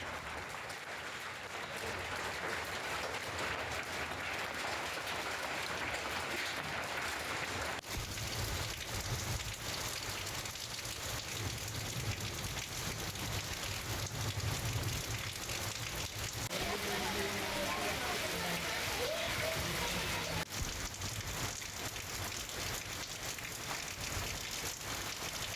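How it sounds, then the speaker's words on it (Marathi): Heavy unseasonal rain pours down in the Latur district, a dense, continuous wash of raindrops hitting surfaces, with the sound shifting slightly partway through and muffled sounds underneath. "लातूर जिल्ह्यातील काही भागात जोरदार अवकाळी पाऊस झालाय"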